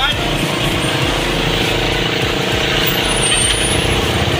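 After flooding from a typhoon, a motorcycle engine runs steadily once started, a loud continuous rumble held close throughout with a voice talking over it.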